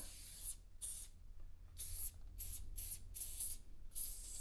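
Silicone spray applied near a bicycle brake disc, a series of short, sharp hissing bursts in irregular rhythm, close and fairly quiet.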